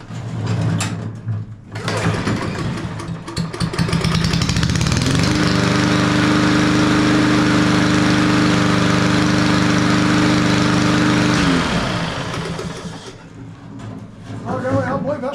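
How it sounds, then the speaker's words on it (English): An MTD Yard Machines lawnmower with a Powermore engine starts up and runs with a loud, steady drone, then cuts out after several seconds, with faint handling noises around it. "I believe that's going to be a good little lawnmower."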